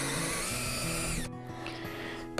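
A power drill fitted with a half-inch auger bit bores a mortise in a wooden mailbox post, a steady loud whine that drops in pitch and thins out halfway through.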